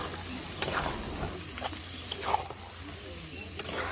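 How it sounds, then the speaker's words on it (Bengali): A spatula stirs banana flower curry with dal and boiled potato in a pan of spices. Soft, steady sizzling runs throughout, punctuated by a few sharp scrapes and clicks of the spatula, fairly quiet and close. "ডাল, আলু আর মোচা সেদ্ধটা এবার এই মশলার মধ্যে ঢেলে দিয়ে খুন্তির সাহায্যে সব কিছু ভালো করে মিশিয়ে 3 থেকে 4 মিনিট এটাকে রান্না করে নিচ্ছে"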